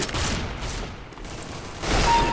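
Rapid gunfire rattles in Counter-Strike: Global Offensive, a dense, loud burst of shots that fills the short stretch, briefly easing in the middle before swelling again.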